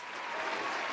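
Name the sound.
round of applause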